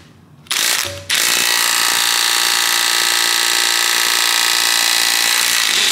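Socket wrench with a new 13 mm socket ratcheting a bolt while installing an exhaust on an R32 Nissan Skyline GTS-T, a rapid, steady, close clicking run that goes on after a brief start, loud and continuous with no talk.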